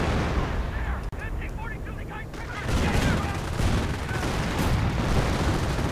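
Artillery fire in the strategy game Company of Heroes, amid StuGs and Panzers: a dense, loud wash of booming explosions and gunfire that fills the clip, with a commentator talking over it.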